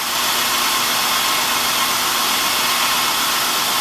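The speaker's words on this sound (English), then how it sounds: "start the engine. Engine's shaking and running poorly" A Honda Accord V6 engine idles roughly with a bad ignition coil, a steady loud broadband rumble and whirr close by with no talking.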